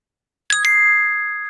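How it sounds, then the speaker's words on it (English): A Securly Pass notification chime for approving a pass: a single bright two-stroke ding that rings out clearly and decays slowly, with no voices. "So that little chime will happen if you unmute it whenever you need to approve a pass"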